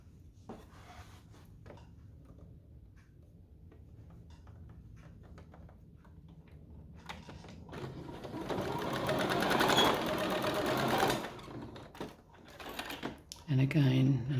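A sewing machine stitches a little girl's dress, starting with scattered light clicks and handling, then running in a steady whirring burst before stopping with a few final taps. A voice speaks briefly.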